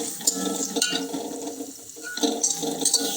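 Asafoetida and green chillies fry in oil for bilimbi (ilumban puli) pickle, with a soft sizzle under bursts of spoon scraping and small metallic clinks against the pan, then a short lull.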